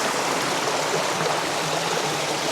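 Water runs continuously from a tap while a cooking pot is washed out after a one-pot meal, giving a steady, fairly loud rushing splash with no pauses.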